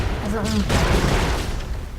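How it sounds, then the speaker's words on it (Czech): Explosion in the Broforce video game: a loud, rumbling blast bursts out early and decays over about a second, with a brief voice just before it. "Jo, no tím výbuchem tě to asi zabilo."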